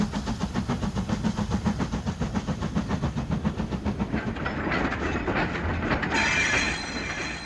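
A British Railways diesel locomotive hauls a modest rake of freight vans bound for Stockport, passing close by with loud rhythmic clickety-clack of wheels over rail joints, then a rumbling engine as the train draws away.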